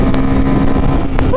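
A Bajaj Pulsar F250 motorcycle engine pulls hard in fourth gear on a highway, a loud, steady droning roar held close throughout with no talk.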